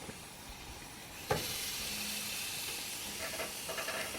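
Burgers sizzle on a hot grill at a truck campsite, a steady close hiss that starts after a sharp clunk and runs on without a break, with no talking over it.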